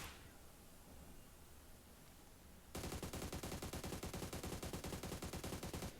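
After a few seconds of low background noise, rapid automatic gunfire in PUBG Mobile starts and continues steadily to the end, loud and evenly spaced.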